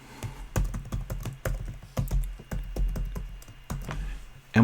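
Keys clatter on a computer keyboard while a username and password are entered, a steady run of close, crisp taps with short pauses and no talk.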